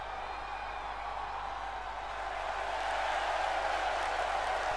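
A wrestling audience cheering and applauding, a steady broad roar of crowd noise that swells slightly toward the end, heard from a distance without clear individual voices.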